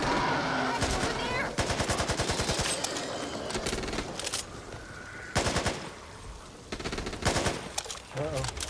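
Gunfire from the video game Back 4 Blood, with rapid bursts of automatic fire broken by short pauses and heavy single shots, loud and close, with occasional voices between volleys.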